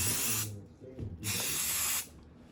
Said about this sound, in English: I want to make sure I get plenty on this.